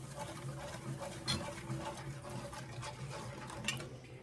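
Water stirred in a cooking pan for smothered pork and potatoes: a soft, continuous scraping and sloshing with small taps from the utensil, close and moderately quiet, with no talking.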